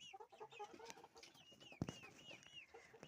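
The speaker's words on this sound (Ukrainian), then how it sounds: "Отакі в мене курочки." Soft clucking and chattering from a group of hens, continuous overlapping calls with a brief sharp knock near the end, no talking.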